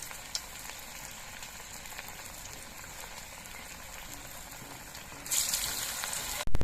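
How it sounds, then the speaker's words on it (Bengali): Steady crackling sizzle of several flattened pakoras frying in hot mustard oil, a constant hiss with a sharper burst of spattering near the end. "আমি বেশ কয়েকটা পকোড়া একসঙ্গে ভাজার জন্য দিয়েছি"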